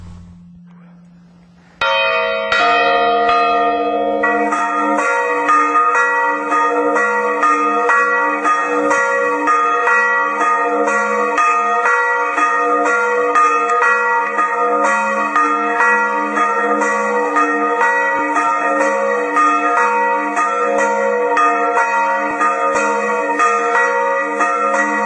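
The church bells of Sant'Eutizio ring the festive Sunday peal, a dense continuous clangor of several bells struck in rapid overlapping succession, loud and sustained after a brief low tone at the start.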